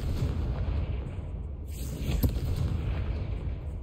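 A Confringo spell explodes in Hogwarts Legacy inside a mine, a loud, sustained low rumbling blast with a sharp crack partway through and a roar that rolls on steadily to the end, with no voices.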